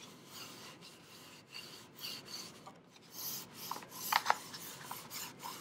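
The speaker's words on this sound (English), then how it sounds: "I'm just going to start kind of rubbing it into the wood" A cloth rubs wood stain into a piece of craft wood with soft, repeated scrubbing strokes. The sound is faint and close, with a few brighter scratchy bursts and no talking.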